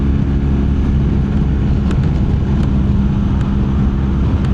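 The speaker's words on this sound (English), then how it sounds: "A lot of buffeting from this truck ahead of me." A 2025 BMW R 1300 GS Adventure rides on a highway behind a truck, with constant loud wind buffeting and engine roar forming a dense, steady roar and a few faint ticks.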